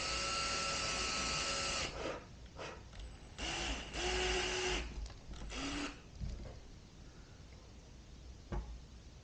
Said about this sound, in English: I'm just going to drill a hole in here